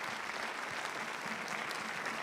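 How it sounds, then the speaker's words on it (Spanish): A small studio audience applauds at a Chilean Teletón 2021 opening, a steady, dense patter of clapping holding at even loudness throughout. "con este aplauso de nuestro público escaso que tenemos hoy día"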